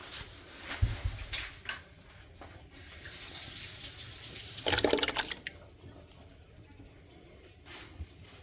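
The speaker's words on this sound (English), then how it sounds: "we're going to rinse that out with a little bit of water" Water splashing and swirling as a jar of Ragu sauce is rinsed out in a kitchen while making spaghetti, coming in short bursts with one louder gush near the middle, close by and moderately loud.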